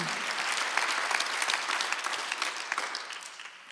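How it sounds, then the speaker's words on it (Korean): A church congregation at a Sunday service applauds with dense, steady clapping that fills the space and tapers slightly toward the end. "박수하세요. 주님을 최고로 섬기면."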